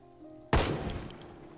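A single sharp gunshot in the zombie survival video game Project Zomboid, one loud crack followed by a short decaying echo, alone with no talk.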